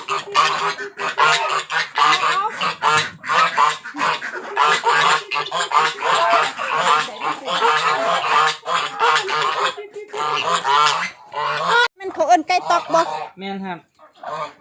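A flock of ducks on a Thai duck farm raised in a mixed farming setup keep up dense, overlapping quacking and honking, with people talking over the din throughout.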